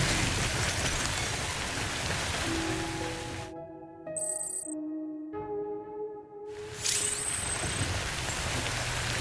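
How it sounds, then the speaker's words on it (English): Steady rain falling in the video game Death Stranding, a dense hiss that drops out for a few seconds mid-clip while sparse musical tones sound, then returns at full strength. "I don't think this rain's gonna stop."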